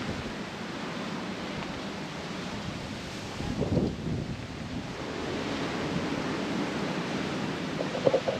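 Waves wash ashore at Souda Beach in Plakias, Crete, a steady roar of surf mixed with gusting wind buffeting the microphone, swelling briefly midway and again near the end.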